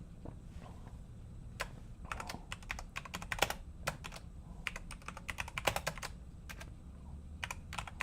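Fingers tapping on a computer keyboard indoors, quick irregular clusters of crisp key clicks with brief pauses, close and fairly quiet over a low room hum.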